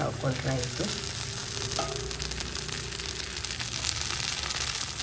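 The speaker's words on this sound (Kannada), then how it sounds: "ಈಗ ಮೇಲಿಂದ ಸ್ವಲ್ಪ ತುಪ್ಪ ಅಥವಾ ಎಣ್ಣೆನ ಈ ರೀತಿ" Ghee or oil sizzles in a hot pan, making a dense, constant hiss with a few brief clinks of a utensil near the start.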